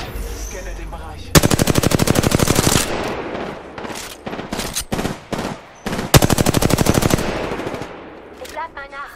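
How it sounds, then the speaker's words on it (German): Machine gun fire in an online shooter video game, loud rapid bursts of automatic gunfire, several long sustained volleys alternating with short staccato bursts, close and dominant, with faint game voice lines underneath. "Ich stehe unter Beschuss."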